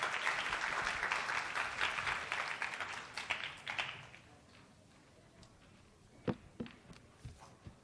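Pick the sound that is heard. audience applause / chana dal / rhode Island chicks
audience applause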